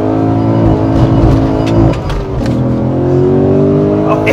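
A 500 bhp Holden/Vauxhall VXR with an American LS V8 engine revs hard, a loud, close, throaty roar that rises, dips briefly and climbs again, with the engine note dominating throughout.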